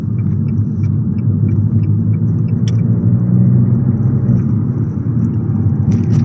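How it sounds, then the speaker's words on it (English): Steady low Abarth engine rumble with a Toyosports exhaust from inside, rising slightly in pitch then dropping as gears change, with a few faint clicks and no talking. "you get to hear what it's like when just going up the gears"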